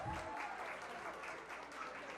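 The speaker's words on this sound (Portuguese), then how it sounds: "Salva de palmas!" Brief burst of applause from a lecture audience, a dense wash of clapping hands that stays fairly even and fairly faint for about two seconds.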